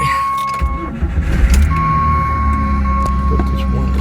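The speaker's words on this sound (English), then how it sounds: "I'm gonna start her up, see what it does." A Jeep WJ engine cranks and catches, then settles into a steady low rumble with faint jingling, close by; a person speaks briefly over it.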